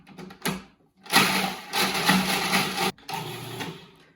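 A food processor pulses a crumb crust mixture of butter and vanilla for a key lime pie in short whirring bursts, a brief one then a longer grinding run and another, close and loud with pauses between.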